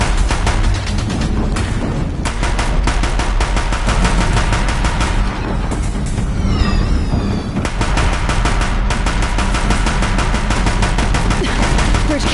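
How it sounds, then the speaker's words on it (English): Deathbringers in a video game pour rapid, loud machine-gun fire at a bridge, an almost unbroken stream of sharp shots with a brief lull midway before the barrage resumes. "Deathbringers keep firing,"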